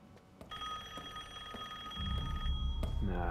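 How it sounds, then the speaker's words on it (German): An old telephone rings in Resident Evil Village on PS5, with a sustained bright metallic ring starting after a click and lasting about two seconds, under low game ambience, followed by heavier rumbling noise. "Telefon klingelt"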